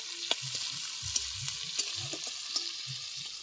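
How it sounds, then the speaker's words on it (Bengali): Onion frying in a pan of oil with a steady bright sizzle, while a utensil stirs and scrapes it in repeated clinks and soft scrapes, close and with no talking. "পেঁয়াজটা হালকা একটু ভেজে নেব"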